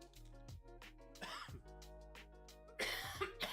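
A person coughs and clears their throat several times, short rough bursts recorded close and faint over quiet background music.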